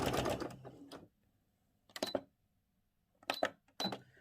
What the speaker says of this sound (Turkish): Şöyle bir ayaktan dikiyorum.